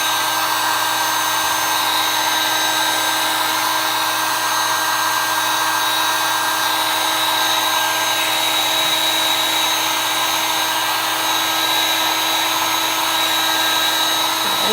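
A heat tool blows steadily to melt wax lodged between the holes of a chalk-art stencil, a continuous close hiss with a faint electric whine, level and unbroken throughout.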